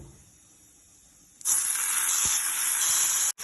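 A steady, bright sizzle and hiss begins abruptly as masala hits a hot pan in an Indian home kitchen while white pumpkin masala is being cooked, holding constant for a couple of seconds before a brief cut.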